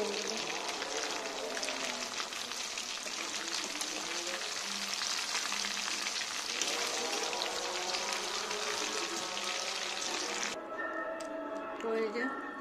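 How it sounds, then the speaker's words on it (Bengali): Marinated chicken frying in a pan, a steady dense sizzle running throughout before thinning out near the end. "এখন আমি আমার চিকেনগুলো ভেজে, তো এই যে আমার ম্যারিনেট করা চিকেনগুলো, এখন আমি এগুলো ভেজে নেব।"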